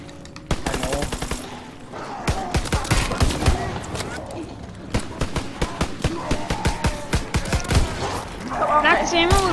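Rapid bursts of video game gunfire as zombies are shot, sharp repeated cracks in quick succession, some nearly continuous like automatic fire, with voices talking over the shooting throughout.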